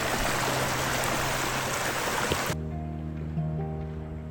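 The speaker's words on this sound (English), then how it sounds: "This acreage also has a live ditch that runs year-round." A year-round live ditch on rural acreage near Mesa, Colorado, its water rushing steadily and fairly loud, then suddenly dropping away to a quieter hum.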